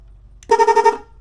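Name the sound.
motorcycle horn honking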